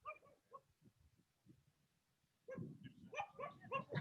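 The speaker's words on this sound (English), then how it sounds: "Oh, we got some puppies." Puppies yipping and barking outdoors on a residential street, faint small barks at first, then a busier cluster of high yelps and whimpers from several young dogs, fairly close but quiet overall.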